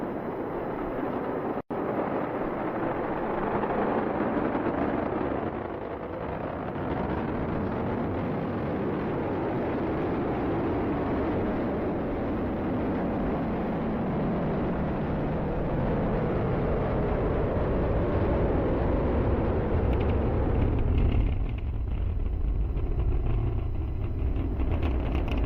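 SpaceX Falcon 9 first-stage engines during a Crew-10 launch, pitching downrange, heard as a loud continuous low roar and rumble that holds steady and deepens toward the end.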